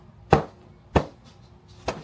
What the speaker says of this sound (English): That's a good chopping pillow too.